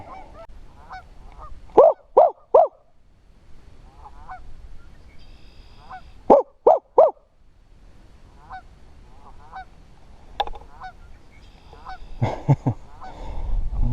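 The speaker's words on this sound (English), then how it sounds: "those geese are potentially going to hamper the peace and quiet part of this mission today" Geese by a river honk loudly in quick bursts of three or four calls with pauses between them, followed by softer scattered honks and a noisy cluster near the end.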